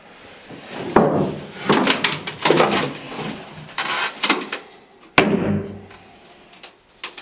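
Magnetic doors on a barrel sauna being handled, with a series of close wooden thumps, bumps and clacks, and a sharp slam near the end, sounding loud in a small room.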